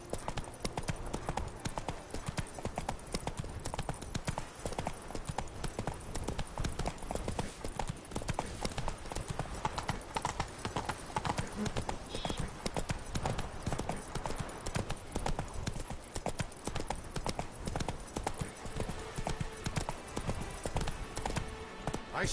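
Horse hooves gallop in The Witcher 3 video game, a rapid, steady, close drumming of clip-clop beats that runs without pause throughout.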